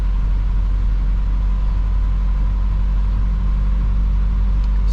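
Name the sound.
Isuzu NPR diesel truck driving in snow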